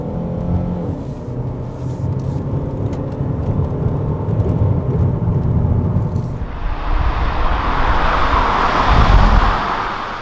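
A 2019 Kia Cadenza drives in sport mode, its engine and road noise humming steadily at first, then swelling into a louder broadband rush of acceleration and tyre roar in the second half, with no talk.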